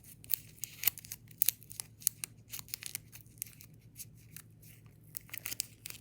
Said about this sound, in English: So just finish taping it all around.